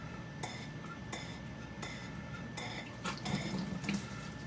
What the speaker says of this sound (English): So you get your gravel vac here, or whatever you're using to siphon with.